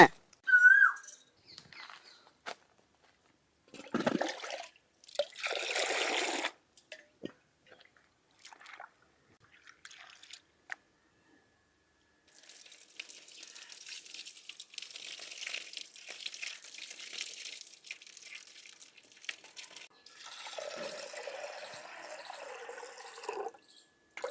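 Toor dal being washed in water makes intermittent bursts of swishing and splashing, with dripping and crinkly rubbing between quiet pauses, fairly close and soft.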